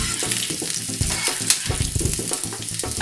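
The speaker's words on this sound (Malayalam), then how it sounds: "നെല്ലിക്ക ഇവിടെ വഴന്നു വന്നിട്ടുണ്ട്." Gooseberries (amla) sautéing in a pan for pickle, a steady close sizzle with scraping stirs and clinks of a utensil against the pan.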